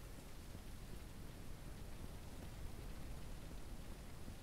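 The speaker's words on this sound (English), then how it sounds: "Oh, it's raining." Rain falling in a farming video game is a soft, even, steady hiss of rainfall, quiet and unbroken for the whole stretch.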